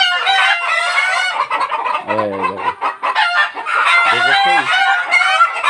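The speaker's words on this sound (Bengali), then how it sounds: "এই যে একটা মুরগি যাচ্ছে, ওখানে যেয়ে ডিম পারবে" Hen clucking on a farm as birds head off to lay eggs, several short clucking bursts close by with a rooster-like call mixed in, under steady talk.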